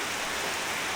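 Heavy storm rain pours over sown rice fields as a steady, dense, even hiss with no break, loud and close throughout.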